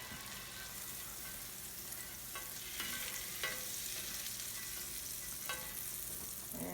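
Butter sizzling in a heated pan for pancakes, a steady crackling fry with faint pops and brief scraping stir sounds, close and continuous with no talking.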